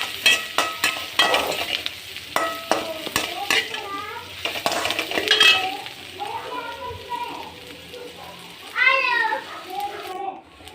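Garlic ginger paste fries and is stirred in a pan with a close sizzle and repeated utensil scrapes and clinks, while children's voices chatter nearby.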